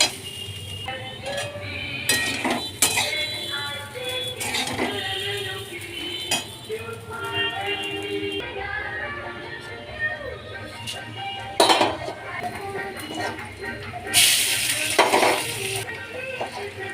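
Raw rice frying and being stirred over medium heat in a pan for Bengali fish-head muri ghonto, with scraping and clinking utensil sounds and soft sizzling that runs steadily throughout, rising into louder bursts near the end.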